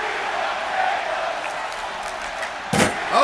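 A crowd at an underground pro-wrestling show roars steadily in a hall, calling for tables, with a sharp slam or impact late and voices mixed into the din.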